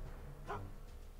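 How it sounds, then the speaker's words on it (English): A single short, soft dog bark in the Back to the Future video game, one quick yelp amid quiet background. "Good dog."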